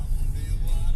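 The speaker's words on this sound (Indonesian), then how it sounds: "Ini kondisi di dalam ambulans." Inside a moving ambulance, a steady, close low engine and road rumble fills the cabin with a continuous drone.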